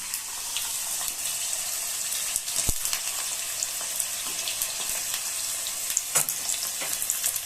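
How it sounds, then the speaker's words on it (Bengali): Potatoes frying in hot oil in a home kitchen give a steady, close sizzle with brief sharp crackles and a couple of louder pops, with no talking over it. "এইভাবে এগুলোকে আস্তে আস্তে এর মধ্যে দিয়ে ভেজে তুলে নেব"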